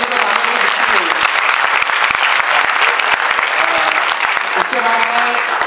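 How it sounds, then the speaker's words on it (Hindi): Loud, sustained applause from an audience for children after a Kumaoni play staged at a hall, dense clapping throughout with a few voices and cheers mixed in beneath. "बच्चों ने जो इतना जबरदस्त कार्यक्रम किया उसके लिए जोरदार तालियां, बच्चों के लिए तालियां"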